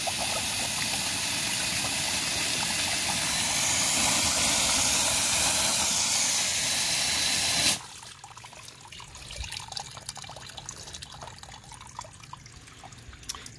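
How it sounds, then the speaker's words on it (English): Water from a garden hose rushes and hisses steadily through an engine cylinder head, a loud, continuous broadband flow that cuts off abruptly, leaving quieter trickling and dripping. "Got a water hose and putting it in the hole of the back of the head."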